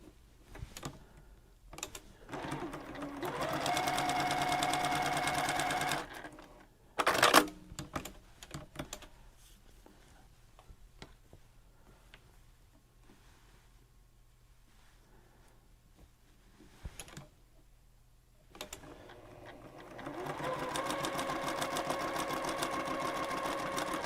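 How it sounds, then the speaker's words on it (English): A sewing machine stitches quilt pieces with a quarter-inch seam in fast, even bursts of rapid mechanical clatter. Two longer runs open and close the passage, with short taps and quiet handling between them. "we're just going to sew these with a 1/4 inch seam"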